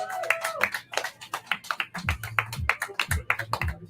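Comedy club audience clapping for a comedian, a run of sharp, uneven claps and taps mixed with cheers, heard close and fairly loud while a host talks over them.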